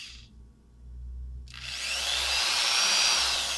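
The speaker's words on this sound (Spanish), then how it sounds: "vamos a hacer pequeños agujeros simplemente como por guía" Small guide holes are drilled into a handmade wooden bomber fishing lure with a power drill. After a short quiet gap the bit bites in loudly, and a steady high whine continues close by until the end, with no voices.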